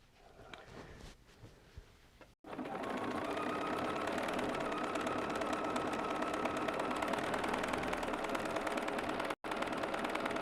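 A sewing machine stitching an appliqué art quilt runs in a steady, fast mechanical whir after some quieter handling sounds, pausing for an instant near the end before resuming.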